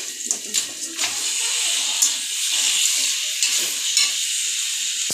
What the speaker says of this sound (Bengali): এবার আমি এটা ভালো করে ভেজে নেবো